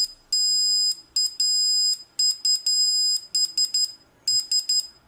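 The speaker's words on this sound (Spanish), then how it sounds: "ahí tenemos el zumbador trabajando correctamente" A homemade oscillator circuit drives a buzzer, giving a shrill, piercing electronic tone in bursts of varying length, some long and some short and choppy, loud against near silence.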